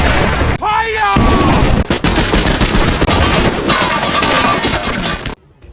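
Loud, dense bursts of gunfire and booming blasts, rapid and continuous, with a voice heard briefly amid the chaos.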